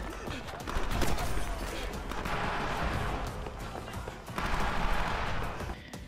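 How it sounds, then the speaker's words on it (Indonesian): Rapid bursts of gunfire crackle in dense, uneven volleys, mixed with scuffling and running movement, fairly loud throughout. "ia diberondong senjata oleh seseorang yang tidak tahu dari mana asalnya"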